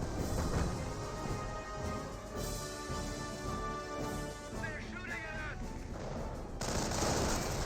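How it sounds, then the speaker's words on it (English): Riflemen fire at Panzer Grenadiers from long range in a Company of Heroes battle, a steady crackle of distant rifle and small-arms fire under continuous battle noise, with speech-like sounds mixed in. "Panzer Grenadiers being engaged by Riflemen at long range"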